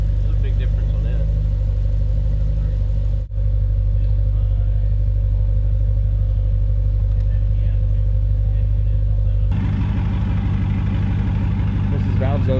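BMW X5 50i engine fitted with a valved exhaust, valves open, idling with a deep steady rumble that stays loud throughout, a brief dip partway, then a rougher, more raspy tone near the end.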